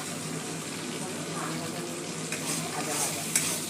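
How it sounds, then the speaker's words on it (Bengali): Food fries in a pan with a continuous sizzle and hiss while it is stirred, giving scraping rustles and occasional sharper clinks near the end. "একটু ভাজা ভাজা হচ্ছে, এটা দেখতে পাচ্ছ।"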